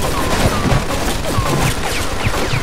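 Dense, steady machine gun fire in the Mafia 2 video game, with rapid bursts blending into a loud, continuous barrage throughout.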